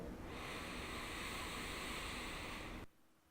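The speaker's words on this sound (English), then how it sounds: "So let's have a look at belly breathing. So I'm going to breathe in," A long, steady belly breath drawn in, a broad airy rush lasting about three seconds before stopping abruptly, close to the microphone.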